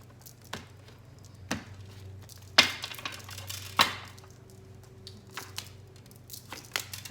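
Shuffled tarot cards cut and handled at a reading table, giving several quiet, sharp papery snaps and riffles spaced a second or so apart over low background hum, with no talking.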